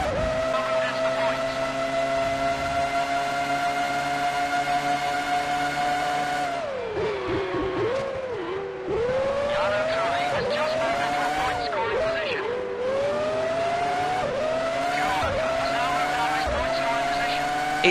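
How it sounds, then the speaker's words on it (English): Formula One race cars from the F1 2003 video game scream past one another at the Malaysian Grand Prix. Their high engine whine rises and falls sharply through gear changes during an overtake, loud and continuous, with commentary talk over it. "we've just done an almighty overtake on Button and Panis"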